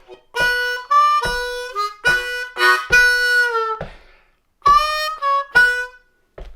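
Harmonica playing a blues lick, a series of sharp, reedy notes in short rhythmic bursts with a pause midway, close and clear with no talking.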